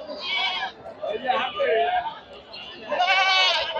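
Native goats at a Bangladeshi livestock market, several loud, wavering bleats close by, one after another, with crowd chatter in the background.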